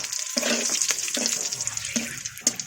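Whole dried chilies, garam masala and bay leaves sizzle in hot oil as a spoon stirs them, a steady bright hiss with several clanks of the utensil against the pan.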